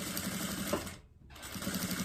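A sewing machine running close up as it stitches a seam on fabric, a fast steady mechanical whir that cuts out briefly before starting again.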